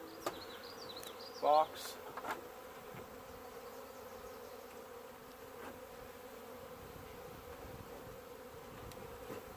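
A small honey bee swarm crowded into five frames and a honey super, droning at a low, steady level throughout the hive work. A brief louder sound rises near the start, and a voice speaks faintly.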